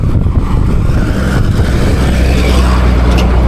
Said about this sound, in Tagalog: Maraming sasakyan dito guys, mabibilis kaya